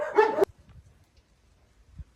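Dogs bark in a street in Funchal, a short loud burst of barking at the start, then quiet with faint scattered noises and a soft thump near the end.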